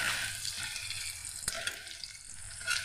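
Sliced onions fry in hot oil with a steady bright sizzle, and a spatula tip scrapes and presses them apart in quick taps over the continuous crackle.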